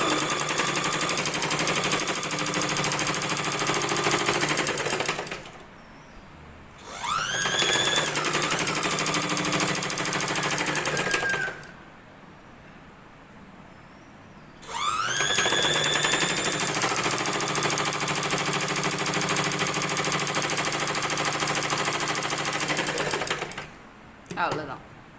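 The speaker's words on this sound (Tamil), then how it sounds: "நான் தையல் போட்டு காட்டுறேன் பாருங்கள்" A sewing machine stitches the back part of a blouse in two long runs of rapid, even mechanical clatter, close and loud, separated by quiet pauses with small handling noises.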